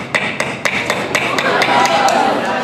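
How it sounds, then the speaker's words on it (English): Several sharp taps ring out as a frozen banana hammers a nail into wood, uneven in rhythm at first, then fading under a steady hiss of background noise. "we can use it as a hammer to hammer a nail into a piece of wood"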